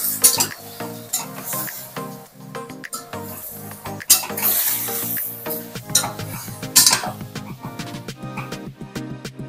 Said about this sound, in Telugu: ఉప్పు పసుపు వేసి మటన్ని మంచిగా వేగనివ్వాలి.